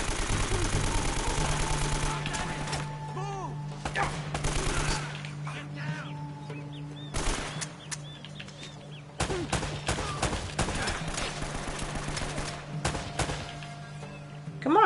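Rapid gunfire bursts in the Uncharted: Drake's Fortune video game, with repeated machine-gun volleys separated by short pauses and a voice speaking over the action.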